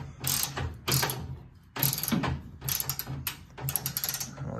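Ratchet tightening the front bumper bolts on a 1968 Firebird, heard as several close bursts of rapid metallic clicking separated by short pauses, with no talking.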